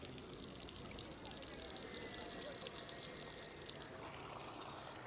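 A steady stream of water runs continuously from a public drinking tap in Rome, a soft even rushing with no pauses and no voices.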